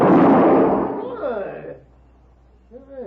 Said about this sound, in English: You just shot the gun from my hand.